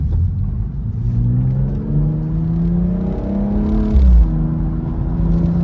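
A car drives along a rural road through pine forest past the Cadia Valley gold mine in New South Wales. Its steady, close engine drone rises in pitch as it accelerates, with a brief thump near the end.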